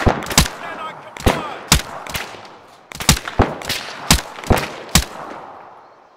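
Suppressive gunfire in ArmA3: sharp, loud cracks of rifle and automatic fire in irregular bursts of single and double shots, each with a short echoing tail, with no talk over it.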